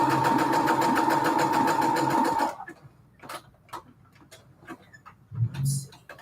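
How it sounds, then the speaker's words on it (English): A sewing machine zigzag-stitches small scraps of fabric ribbon in a fast, steady, loud whir of the needle for about two and a half seconds, then stops, leaving faint clicks and light handling rustles. "Let me just sew these together. Hang on, these are just little scraps. Yes, zigzag is fine."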